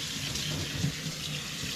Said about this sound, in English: So I'm going to drain them and rinse them with cold water.